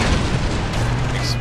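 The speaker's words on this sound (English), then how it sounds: "And you might be hearing these explosions going off." Explosions in Far Cry 3 boom as a dense, loud, continuous rumble with a muffled blast quality filling the short stretch.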